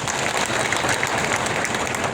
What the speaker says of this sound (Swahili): Pigieni makofi moja Kimani Ichung'wah